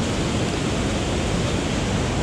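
A waterfall beside a Tennessee fishing spot during a white bass run gives off a steady, dense roar of rushing water that stays constant and unbroken throughout, with no voices over it.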